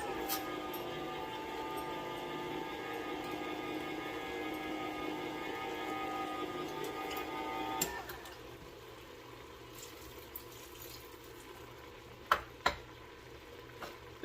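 Vegetables simmer in clam juice in a pot for keto clam chowder, a steady low bubbling hiss that runs evenly for about eight seconds, then drops away to a quieter background broken by a couple of faint knocks.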